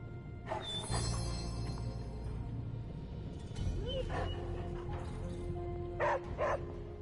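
A dog barks and whimpers in Marvel's Midnight Suns, several short yips and barks spread over a steady low game ambience, with no talk.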